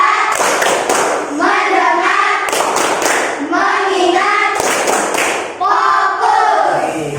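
A classroom of pupils chants the rhythmic 'tepuk fokus' clapping routine, their voices calling out words in unison between repeated sharp hand claps, loud and close throughout.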